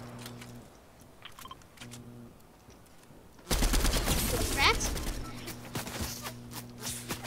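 Gunfire from a Fortnite match erupts suddenly after a quiet stretch, a loud dense burst of rapid shots that keeps going, with a voice talking over part of it.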